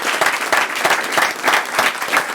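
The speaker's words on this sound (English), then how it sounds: "So you give them a round of applause" Round of applause from the audience at a COP25 climate conference session, brisk clapping with a pulsing rhythm that stays fairly close and steady for a couple of seconds.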